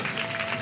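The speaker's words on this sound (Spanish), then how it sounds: "¡Bravo! ¡Aplauso fuerte!" Audience applause at a Spanish comedy show, a steady wash of clapping filling the short moment at moderate loudness with a faint steady tone running underneath.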